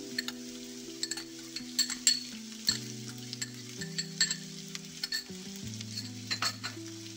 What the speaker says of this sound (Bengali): রসুনটা ভাজা ভাজা হয়ে গেছে, ওর মধ্যে আমি দিয়ে দেবো এবারে পেঁয়াজের কুচি।